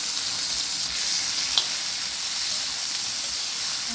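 Peanut kharda roasts in a spoonful of oil with a steady, even hiss of frying, close and constant, with one faint clink partway through.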